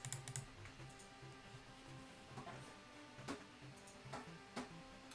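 Steady typing on a computer keyboard, a quiet run of overlapping key clicks with a few sharper taps, heard faintly beneath a dense layer of background music with no talking.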